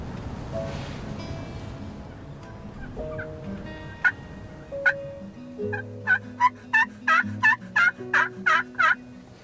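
Wild turkeys gobble in the distance in Nebraska, a rapid series of gobbles coming in quick bursts and growing louder toward the end over quiet outdoor ambience.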